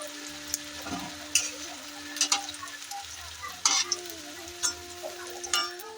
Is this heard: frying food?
yes